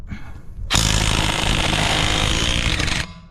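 An impact wrench from a budget mechanics toolset whirs up suddenly and runs in one loud, continuous burst for about two and a half seconds while removing a lug nut, then cuts off.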